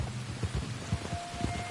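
Steady rain hiss pours across a Red Dead Redemption 2 scene, with soft low patters and thuds of drops striking nearby surfaces underneath, moderately quiet and continuous throughout.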